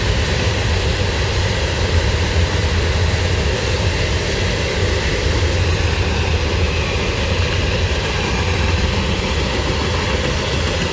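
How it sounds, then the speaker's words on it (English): A Union Pacific coal train rumbles past nearby, a steady dense low roar of rolling cars and wheels on rails holding constant loudness for the whole stretch with no talk. "There goes the end of that coal train."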